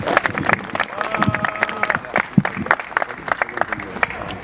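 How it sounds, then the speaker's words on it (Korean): A crowd at an outdoor Wednesday rally in Changwen, South Korea, for the Japanese military comfort women bursts into dense, crackling applause that stays fairly loud, with scattered voices and a brief cheer mixed in as a speaker is welcomed. "힘찬 박수로 맞이해 주시기 바랍니다."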